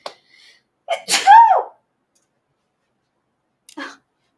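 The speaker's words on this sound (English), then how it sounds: "I'm about to sneeze." A single close, sharp sneeze with a quick intake of breath beforehand, followed by quiet and a short sniff, in an air-conditioned room.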